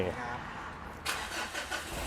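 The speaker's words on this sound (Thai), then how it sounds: "เหยียบขาแล้วก็สตาร์ทอันนี้ก็เครื่องยนต์เดิมๆนะท่อเดิมๆ" A 2019 Mitsubishi Triton pickup with stock engine and stock exhaust cranks and fires up about halfway through, after a quiet stretch with faint interior noise, then settles into a close, steady idle.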